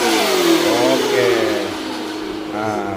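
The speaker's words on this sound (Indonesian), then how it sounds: "Jadi ada suaranya nih motor nih, supaya tidak dikira motor hantu katanya." An electric conversion motorcycle plays an artificial engine sound through a speaker, rising and falling as the throttle is revved, loud and close with a rough mid-range tone and some background chatter.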